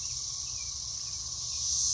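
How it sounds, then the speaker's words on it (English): Cicadas singing in a poppy-filled meadow, a steady, dense high-pitched drone that holds unbroken throughout and swells slightly louder toward the end. "The cicadas will continue to sing"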